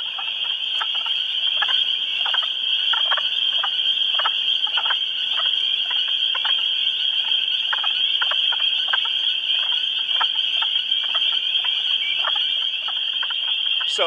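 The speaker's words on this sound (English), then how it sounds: "these peepers and these wood frogs are putting on quite the show" A dense chorus of spring peepers and wood frogs calls outdoors: shrill repeated peeping notes over a steady background of clucking croaks, loud and continuous, with no one speaking.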